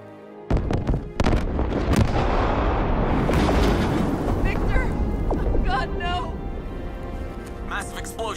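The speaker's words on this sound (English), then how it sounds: "Explosion in the bay." A loud explosion in a film scene bursts in suddenly, then rumbles and crackles with debris and blasts that fade out, with voices speaking over the tail.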